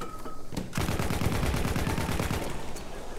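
Rapid gunfire from the video game Battlefield 1 bursts in after a short lull, a loud sustained automatic volley rattling on with dense repeated shots for several seconds.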